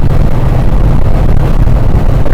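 Deep, loud, steady drone inside a 2024 Proton S70 at full throttle on the Sepang circuit, engine and road rumble blending with wind noise in one unbroken roar.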